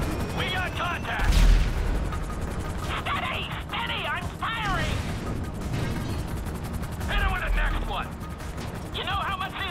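In Grand Theft Auto V, gunfire and explosions crackle in bursts amid a heavy background rumble, while people talk and shout over the action.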